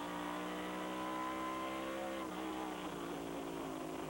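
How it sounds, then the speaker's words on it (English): NASCAR stock cars race at Lime Rock Park, engines roaring loud and steady as several cars drive close together, with pitch shifting as they rev and pass. "Sounds like a sprint car race, too."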